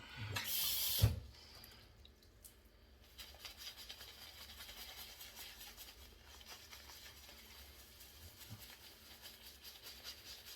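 Water poured or dripped onto a pasty base of CBL shave soap, giving a brief loud splash at the start and then a steady, soft patter of trickling water continuing throughout.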